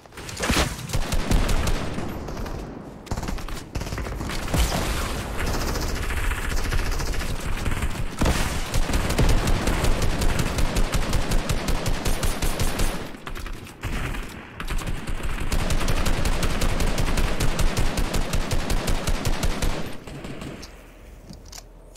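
Sustained automatic gunfire in the video game Fortnite, long rapid bursts of shots fired close and loud, broken by a few short pauses, with no talk over it.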